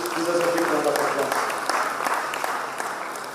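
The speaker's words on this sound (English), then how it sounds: "I think he deserves a big round of applause." Audience applause at an international commerce conference, a steady wash of clapping from a sizeable crowd that holds evenly and tapers slightly toward the end, with a voice faintly underneath at the start.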